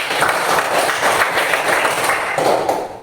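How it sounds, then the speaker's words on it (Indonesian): A school class of ninth graders claps for a classmate, a quick, busy patter of many hands close by that holds steady for a few seconds. "Silakan tepuk tangan untuk Paskin."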